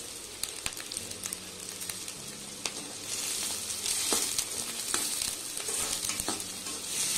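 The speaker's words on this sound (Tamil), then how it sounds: "வெங்காயம் நல்லா வதங்கட்டும்." Onions and chillies sautéing in a pan for chicken liver pepper fry, an even frying hiss that grows denser partway through, with occasional ladle scrapes and crackles nearby.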